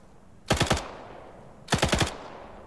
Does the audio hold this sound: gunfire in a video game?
yes